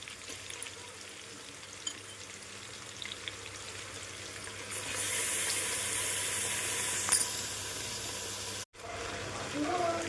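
Mutton frying in a pan for village-style biryani, a low bubbling sizzle that swells louder and brighter halfway through as the meat settles in, with faint talk underneath and a brief clatter.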